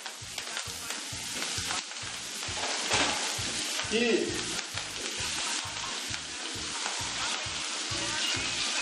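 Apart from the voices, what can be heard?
garlic and parsley frying in a pan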